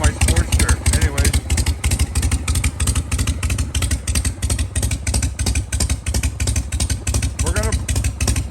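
A Harley-Davidson Shovelhead motorcycle engine runs close by with a loud, lumpy, loping idle, its rapid rhythmic pulses continuing steadily throughout, and a voice briefly talks over it.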